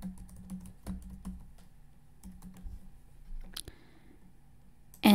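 A few soft keystrokes on a keyboard near a Canon copier set up for scanning to a folder, scattered and faint in a quiet room, ending with a sudden louder burst.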